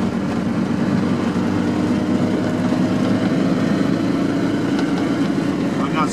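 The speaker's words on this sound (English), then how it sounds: "I'm in fourth gear already, just kind of lugging it" An Isetta microcar engine lugging in fourth gear on an expressway, a steady loud drone with heavy low rumble and continuous wind and road roar from start to end, likely with a voice mixed in.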